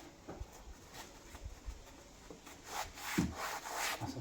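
Hands rubbing 6mm foam sound-proofing insulation onto the roof of a Land Rover Defender 130 TD5, smoothing from the middle outwards, giving a soft, close, continuous scuffing and rubbing with irregular strokes.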